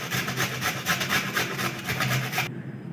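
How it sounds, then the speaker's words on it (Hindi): Raw peeled potatoes rubbed over a kitchen grater in steady, rapid rasping strokes, close and fairly loud, running continuously before stopping abruptly near the end. "अब मैं कद्दूकश कर रही हूँ।"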